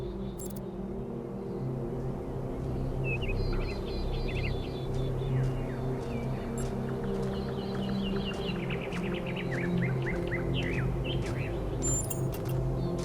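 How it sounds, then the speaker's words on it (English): Birdsong outside a dome in the Talos Principle 2 video game: scattered chirps and tweets over a steady low rumbling ambience, moderately loud and continuous throughout, with no talking. "Do you hear the birds chirping outside the dome?"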